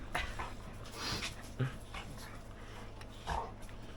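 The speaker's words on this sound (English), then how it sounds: "Puppies, calm down." Puppies whimpering and whining in short, thin bursts, fairly quiet against background noise, with a couple of louder yips.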